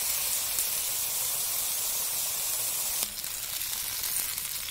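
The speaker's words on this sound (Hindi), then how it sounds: "इसमें इसको डाल के भून लेते हैं बैगन" Brinjal frying in a pan, a steady loud sizzle that holds throughout, dipping slightly partway as the food is moved.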